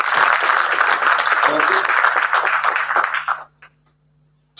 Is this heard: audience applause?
yes